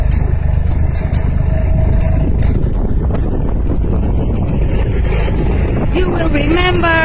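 A tractor drives to an okra field near Gaziveren, with a loud, constant low engine rumble and heavy wind buffeting the microphone; a voice and a short rising whine come near the end.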